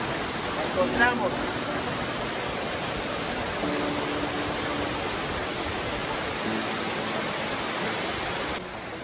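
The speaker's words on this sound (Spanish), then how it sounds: "Tenemos esta caída de agua, la piedra negra, esta curva que se hace aquí con el agua que va cayendo" A waterfall in a canyon in Colombia pours over black rock in a curving fall, making a steady, loud broadband rush that fills the whole clip, with a faint voice briefly audible early on.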